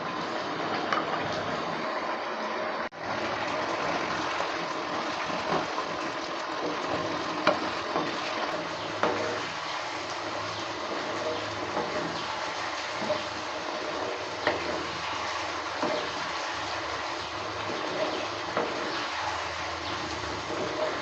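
Mixed vegetable curry with bori being stir-cooked in a pan on a gas stove, a continuous dense sizzle and frying hiss with intermittent spoon scrapes and stirring knocks throughout, close and steady, no talking.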